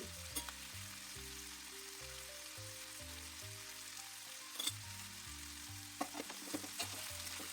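Brinjal pieces frying in oil in a pan, a soft steady sizzle with occasional stirring clinks, fairly quiet, with a low tonal background hum underneath.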